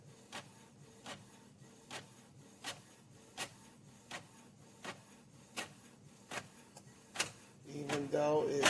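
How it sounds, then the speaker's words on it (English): Small Canon desktop pigment inkjet printer printing, a regular series of soft mechanical clicks and shuttles roughly every half second, ending in a louder feed whir at close range. "I'm going to hit start printing. I just use this little Canon that's on my desk"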